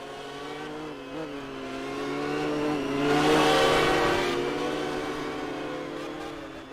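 GT1 historic race cars climb a hill during a feature race, their engines revving hard and swelling to a loud peak midway as they pass before fading into the distance.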